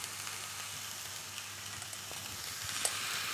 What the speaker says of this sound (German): Und die können wir wirklich schön scharf anbraten oder angrillen.